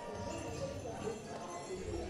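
Hooves of draft horses pulling a float in a historic Saint-Vincent procession in Soignies, a steady muffled clip-clop at a moderate distance under crowd murmur and faint talk.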